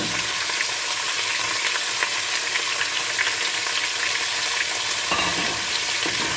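Chopped potato and cauliflower fry over a high-medium flame, a loud continuous sizzle that holds steady throughout, with a brief stir or clatter near the end.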